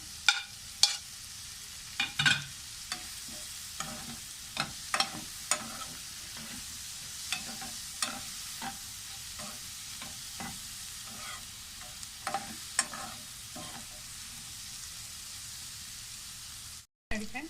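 Prawns with green chilli fry in a pan, giving a soft steady sizzle broken by repeated sharp scrapes and knocks of a spatula stirring at irregular intervals, close and moderately loud.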